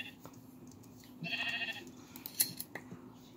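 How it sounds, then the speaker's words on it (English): A single mountain sheep bleats briefly in a video game over a quiet background, followed by a few soft clicks and knocks. "A mountain sheep."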